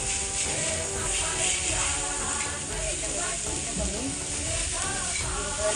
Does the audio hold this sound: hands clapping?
no